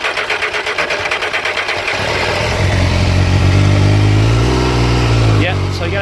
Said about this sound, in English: there's what it sounds like without the exhaust baffle basically in.